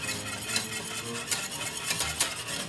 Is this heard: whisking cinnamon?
yes